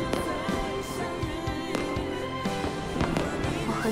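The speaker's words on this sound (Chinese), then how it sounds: "我很久都没有看过烟花了" Fireworks bursting at a birthday celebration, a series of sharp pops and thuds scattered over steady music, fairly loud and close throughout.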